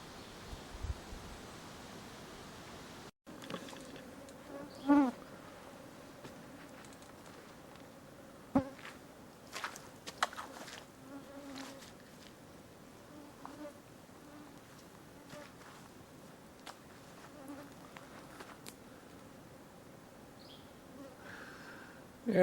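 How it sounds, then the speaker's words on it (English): Bugs buzz and fly past in an outdoor cabin yard near an off-grid log cabin, faint, intermittent whines drifting close and away over quiet rustling background. "you can hear them, and those are real bugs flying by now."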